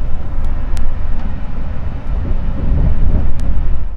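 Mataram passenger train running at speed up to 120 km per hour, a loud continuous low rumble and roar of wheels on rails, steady throughout with a few sharp high squeals or clicks.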